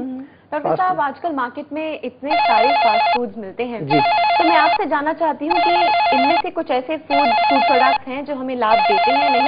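Telephone ringing as a call comes in on a live Ayurveda health television show, repeated bursts of bright electronic ringing that alternate with a woman asking a question, her voice continuing between and under the rings.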